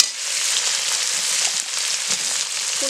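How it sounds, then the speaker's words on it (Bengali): Tomatoes fry in hot oil tempered with whole cumin and dried chilli, giving a close, continuous bright sizzle with small crackles and pops, no voices. "তেলে গোটা জিরে আর শুকনো লঙ্কা ফোড়ন দিয়ে আমি টমেটো দিয়ে দিয়েছি।"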